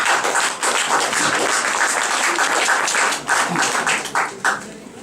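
A crowd at the opening of the 25th international show La Première Fois applauds loudly and steadily for several seconds, the dense clapping thinning into scattered claps near the end.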